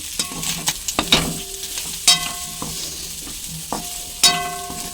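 Mutton liver fries with masala in a pan, a soft continuous sizzle broken by loud, irregular scrapes and knocks of a spatula stirring against the metal, close and clear with no voices.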